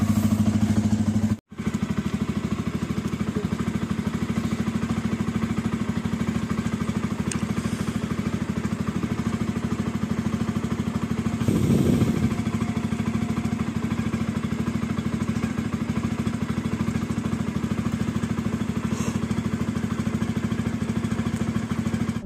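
A touring motorcycle loaded with saddle bags, a tail bag and a tank bag runs continuously at a steady idle, a constant close mechanical hum with faint clatter throughout.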